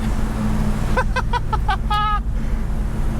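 A 1969 Chevrolet Chevelle with a built 454 big block engine accelerates from a roll. Its deep, loud rumble drones steadily throughout, with a brief voice heard over it.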